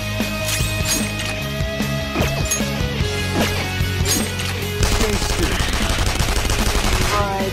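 Gunfire during a battle in the video game Persona 5: rapid, loud bursts of sharp shots in a steady rhythm over a backing music track, growing denser toward the end.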